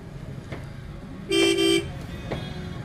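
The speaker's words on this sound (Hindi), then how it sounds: "देख रहा भाई हॉर्न मेरा कितना तगड़ा है" A motorcycle horn gives one loud, steady honk lasting about half a second, over a street background with traffic and faint speech.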